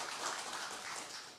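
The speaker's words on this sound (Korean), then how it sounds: "여러분 축복하면서 박수 한번 해주시면 감사하겠습니다" Church congregation clapping to bless two newly baptized adult members at a baptism service, a steady wash of applause filling the room for the whole moment without any voices.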